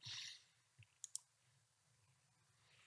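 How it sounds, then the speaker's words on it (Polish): A computer mouse gives a couple of quick, soft clicks close by in a quiet room, with a faint low hum underneath. "Klikamy adres, który jest pod spodem"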